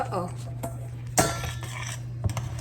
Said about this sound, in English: I've added the pineapples and the mandarin oranges. I'm just going to stir that together.